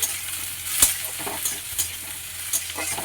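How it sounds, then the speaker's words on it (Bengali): Tomatoes stirred into fried onions in a pan, giving a steady sizzle broken by repeated scraping strokes of a spatula, close and fairly loud with no talking. "পেঁয়াজটা দিয়ে ভাজা ভাজা হয়ে গেছে, টমেটোটা দিয়ে আমি একটু নাড়াচাড়া করে নিয়ে"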